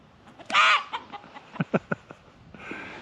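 Chickens on a homestead cluck and squawk during a chase, a loud flurry of squawks up front followed by a quick run of sharp clucks and a final ruffled squawk, close by.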